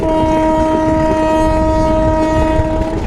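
A passenger train from Bogura is heard from its roof, with a loud continuous rumble and rattle of the moving carriages and a sustained horn tone running through the whole stretch.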